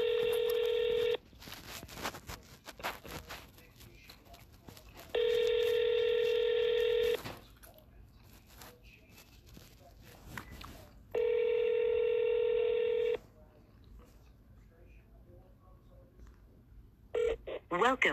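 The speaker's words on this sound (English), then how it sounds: "I'm going to call into the Quincy Police Department" A telephone call to a police department sounds three long, steady electronic tones of about two seconds each, separated by pauses of low background noise, clear and close on the line.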